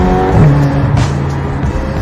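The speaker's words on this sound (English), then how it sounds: "This car sounds beautiful. I'm not sure how much of it you can hear, but let me just speed up very briefly." A Ferrari California T, a car that reaches 0 to 100 in about 3.6 seconds, accelerates briefly with a loud rising engine note heard from inside, with road and wind noise around it.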